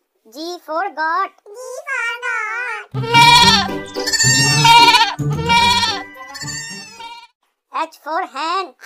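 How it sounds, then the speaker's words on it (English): A goat bleats loudly in wavering cries, repeated several times, set within a children's phonics alphabet song with a voice singing around it. "G for goat."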